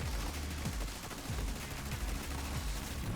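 Rapid gunfire at zombies in a video game, a steady string of booming shots about every half second over a busy, noisy game background, fairly quiet overall.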